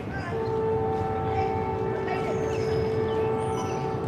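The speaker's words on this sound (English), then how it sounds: "That is a horn." A freight train horn sounds trackside in Dalton, Georgia, a steady two-tone blast held loud and fairly close over rumbling background noise.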